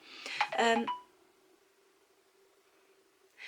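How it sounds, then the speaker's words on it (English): A mobile phone chimes with a message notification: a quick cluster of bright electronic tones up front, then a thin lingering tone that fades to near silence before a brief return at the end. "my phone went off"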